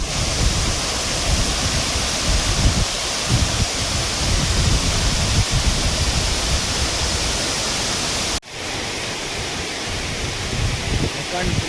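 Steady roaring rush of a waterfall near Bundi, a dense broadband wash that fills the scene continuously, with a brief dip near the end before the roar resumes.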